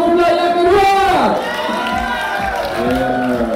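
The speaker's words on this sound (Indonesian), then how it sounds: "Tepukan untuk kumpulan yang kedua." Audience clapping and cheering for the second team at a school sports and games event in Kota Bharu, a loud crowd throughout with a host's amplified voice talking over it.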